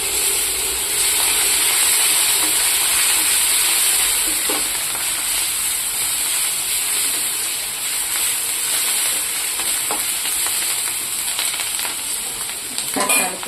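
Curry leaves and coriander sizzle and crackle in hot oil during dahi vada preparation, a steady loud frying hiss with occasional clinks of a utensil against the pan.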